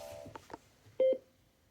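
An RNIB Daisy player gives a single short electronic beep as it shuts down, following a brief burst of synthetic voice from the device.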